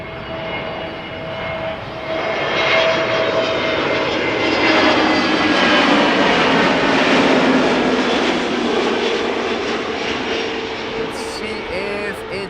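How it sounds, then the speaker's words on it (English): A TAP Air Portugal Airbus A320neo jet arriving from Lisbon at Amsterdam Schiphol roars in steadily, its engine whine swelling loud and near before slowly easing off, with no talk. "this is Top Air Portugal arriving from Lisbon, A320neo, 2 hours 20 minutes underway"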